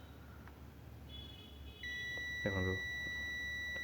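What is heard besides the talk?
multimeter beeping while checking oven PCB components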